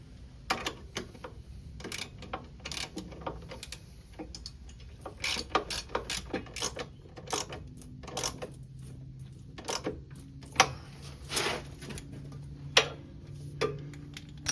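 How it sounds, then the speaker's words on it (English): A hand ratchet turns 13 mm bolts on the rear caliper mount of a 2001 Polaris Xplorer 250, producing quiet irregular clicking ticks in short bursts over a faint background hum. "There are some things that I do like to just use a ratchet on so I can feel it with my hands."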